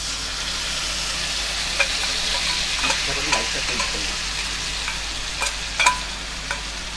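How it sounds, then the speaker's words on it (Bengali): A soaked ground spice mix is stirred and fried in a pan for a fish-roe fritter curry, with a continuous sizzle and scattered clinks and scrapes of a spoon against the pan. "গুঁড়ো মশলার মিশ্রণটা এইবার এর মধ্যে দিয়ে দেবো"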